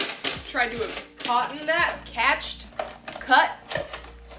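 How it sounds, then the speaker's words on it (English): Metal silverware clatters and jingles as it is put away and dropped, several bright rattling bursts in quick succession, close by, with a voice talking over parts of it. "put away my silverware."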